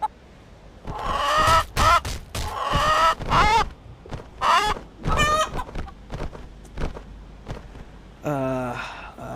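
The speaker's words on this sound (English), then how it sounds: "A chicken?" Chicken clucking inside Blade & Sorcery on the Sentara map, a run of short, harmonic squawks and clucks in bursts across the clip, fairly close and loud, ending with a higher rising call.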